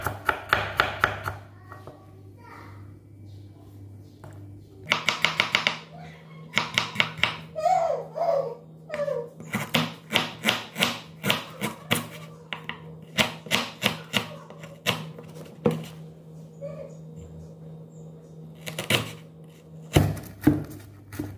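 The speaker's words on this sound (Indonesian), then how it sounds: "Bawangnya juga dipotong kecil-kecil." Knife chopping onion into small pieces on a board for Balinese fish bakso, a long run of sharp, close taps in quick rhythmic bursts with short pauses, steady throughout.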